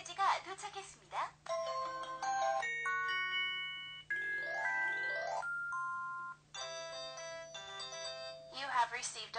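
Motorola RAZR MS500 message-received alert: a busy chiming ringtone melody with rising sweeps and sustained electronic notes, lasting several seconds, with short spoken announcements at the start and end.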